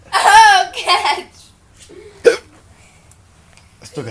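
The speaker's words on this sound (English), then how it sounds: "I still got the hiccups." A child hiccups in short, sharp jerks at home between bits of talking and giggling, the hiccups close and loud against a quiet room.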